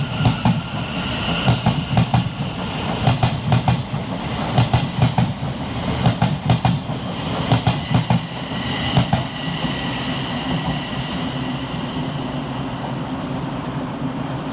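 A Thameslink Class 700 electric train departs Farringdon station, its wheels clattering rhythmically over rail joints with a steady rolling hum as carriages pass close by, loud and continuous throughout.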